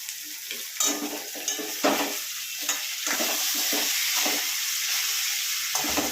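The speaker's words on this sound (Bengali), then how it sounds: "এবার এটা যতক্ষণে একটু ভাজা ভাজা হচ্ছে, ততক্ষণে একটু কাঁচা লঙ্কা চিড়ে এর মধ্যে দিয়ে দেওয়া হলো।" Banana stem curry fries in a pan, a continuous sizzle broken by repeated scraping strokes of a spatula stirring the pieces, close and moderately loud with no voices.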